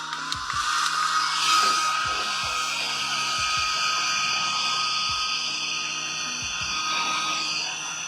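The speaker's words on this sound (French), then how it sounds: "Et tout simplement, nous allons sécher pour l'activer." A hair dryer blows continuously to dry and activate serum applied to the skin, a steady loud whirring roar with a slight shift in pitch as it moves, no talking.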